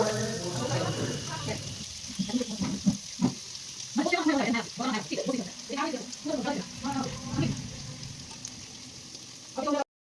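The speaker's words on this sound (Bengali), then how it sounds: "এখন সয়াবিনগুলো আমি ভালো করে ফ্রাই করে নেব।" Soybean chunks fry in oil with salt and turmeric in a home kitchen for a soybean and potato curry, a steady crackling sizzle broken by repeated stirring scrapes, with speech over parts of it.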